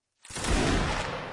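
A musket volley fired by a line of soldiers in the Mount and Blade: Warband multiplayer battle, one sudden loud crackling burst of overlapping shots that rolls on for about a second, with no speech.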